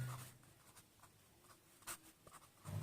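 Chalk or marker writing on a classroom board during a chemistry lesson, a series of short scratchy strokes and taps in an uneven rhythm, close and fairly quiet, with no talk.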